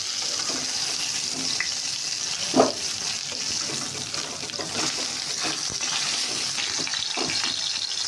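Katla fish pieces frying in hot oil, giving a steady broadband sizzle with occasional louder pops and crackles, one sharper burst partway through, and no voices.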